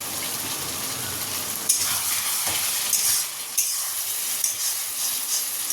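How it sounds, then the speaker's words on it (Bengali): Potato curry frying in a pan with ginger-cumin paste, tomato and green chilli, a steady close sizzle broken by a few stirring scrapes. "আদা জিরে বাটা, টমেটো, কাঁচা লঙ্কা এই দিয়ে আলুটা ভেজে আর মশলাটা এর মধ্যেই দিয়ে দিয়েছি"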